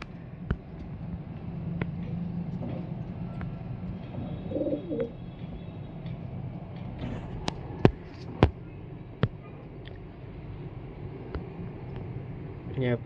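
Soft pigeon cooing over steady background noise, with occasional sharp clicks and knocks nearby, at a pigeon and quail keeping place in Sialkot.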